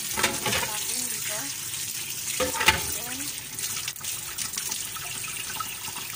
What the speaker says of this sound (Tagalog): Banlawan na natin yung ating macaroni.